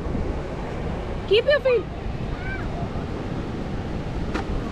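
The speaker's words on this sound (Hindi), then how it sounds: "अच्छी तेज़ तेज़ लहर आ रही है, तो इस लहर का थोड़ा सा मज़ा लिया जाए बीच पे।" Strong sea waves roll in at a beach in Goa, a constant loud surf roar mixed with wind noise on the microphone while people talk briefly over it.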